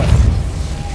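A Depulso force spell cast in Hogwarts Legacy on PS5 lands as a loud, close, low booming burst that quickly decays into a rumbling tail, with no talking over it.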